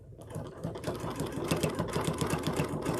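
A sewing machine stitches a quilting line in a quick, steady mechanical rhythm, running continuously at close range with no talk over it.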